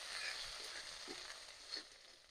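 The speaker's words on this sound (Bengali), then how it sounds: "পেঁয়াজটা লাল লাল করে ভালো করে ভেজে নেব।" Chopped onion fries in a pan after dried chillies, bay leaf and whole cumin, a faint, steady hiss with a couple of soft stirring touches, quiet and without speech.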